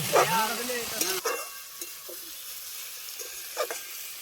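Ginger garlic paste sizzles in a pan as it is stirred, with a few scraping strokes. Speech is heard at the start, then a quieter low hiss continues with occasional clinks.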